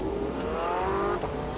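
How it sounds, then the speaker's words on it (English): Porsche 918 driven in The Grand Tour game, a close, continuous engine whine with rising revs and a brief shift-like break, loud and steady without speech. "So now I get to drive the 918."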